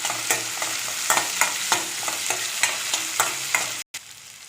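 Tomatoes frying with onions in oil for South Indian hotel-style poori masala, a steady close sizzle broken by regular scraping stirs of a ladle against the pan, with a brief dropout near the end and no voices.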